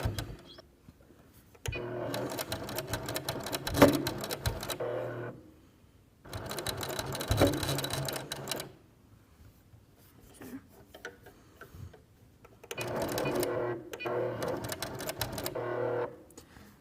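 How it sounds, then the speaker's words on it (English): A sewing machine stitches over a zipper on a fabric pencil case in three bursts of rapid mechanical stitching, with quiet pauses between each run. "I'm gonna sew right over where I'm at with my zipper"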